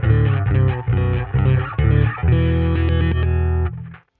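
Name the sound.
bass through Line 6 Helix Tweed Blues Normal amp model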